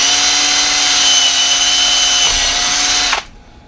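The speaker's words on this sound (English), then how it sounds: "And we're going to drill it." Power drill boring into a workpiece in a home shop: a steady, loud, high whine runs for about three seconds, then cuts off abruptly into near silence.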